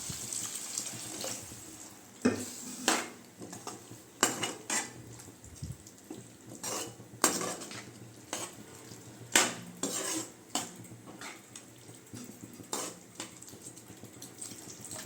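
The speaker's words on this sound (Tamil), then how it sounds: "இந்த அளவுக்கு தண்ணி சேர்த்துக்கோங்க போதும்" Water is added to a soya chunk (meal maker) gravy in a pan and stirred, with clattering utensil knocks against the pan and sloshing liquid in irregular bursts, close up and without talk.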